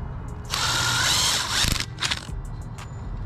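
A drill whirs in reverse to release a rivet tool, with a ratcheting, gear-like mechanical buzz for about a second, followed by a few clicks and fading motor noise.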